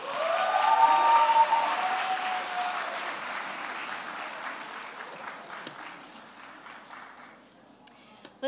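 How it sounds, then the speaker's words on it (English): Graduating pharmacy and other students at a university achievement celebration receive a broad crowd applause that starts strong and gradually fades over several seconds, ending in a few scattered claps. "Let's give a round of applause for all of our graduating students"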